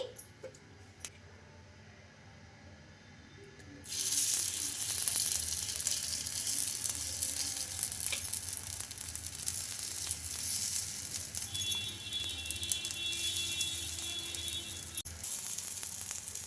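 Moong dal pesarattu on a hot pan bursts into a loud, bright sizzle once drops of oil go in, crackling steadily up close after a quiet start, with no talking.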